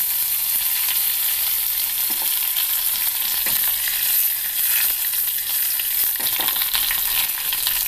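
Dried red chillies and curry leaves sizzle loudly in hot oil for an Angamaly-style mango curry, a dense crackling fry with scattered pops, close and continuous without speech.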